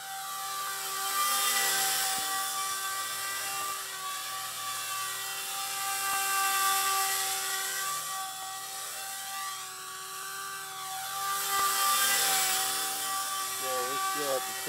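Blade 130X RC helicopter flying nearby, a continuous high-pitched rotor and motor whine that rises and falls as it maneuvers, with people talking over it.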